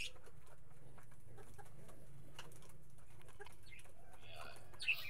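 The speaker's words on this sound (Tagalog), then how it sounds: "Kain lang kayo dyan mga kalapati. Tuka lang ng tuka." Pigeons and their young peck and feed from bowls, giving soft scattered taps and faint bird sounds in a quiet setting, with no talking.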